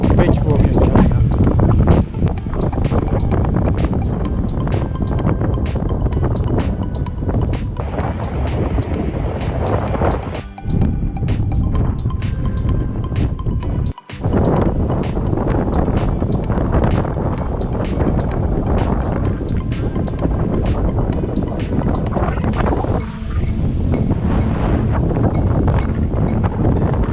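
Strong wind buffets the microphone on a beach, a loud, continuous roar with gusty surges across the whole stretch and brief dips.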